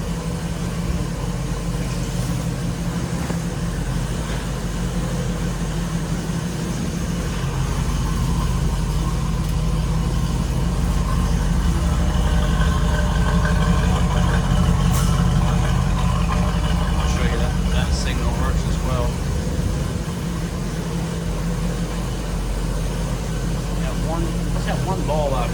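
A 1973 Camaro Z28 engine runs while driving, a steady low rumble with road and cabin noise throughout, and a voice talking intermittently over it.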